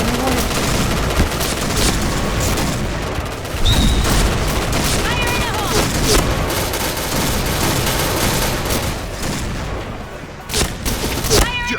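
Shotgun blasts and other gunfire in the shooter game Point Blank, loud, dense and continuous with repeated booming shots and a busy mix of battle effects, while someone talks over it.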